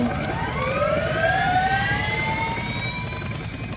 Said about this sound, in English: to get in the helicopter to drive it you get in front of it